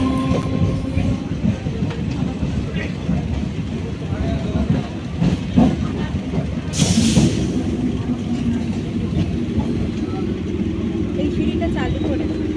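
A train arriving at Kalyani station rumbles steadily with clattering wheels and a brief hiss of brakes partway through, close and continuous, with voices murmuring under the noise.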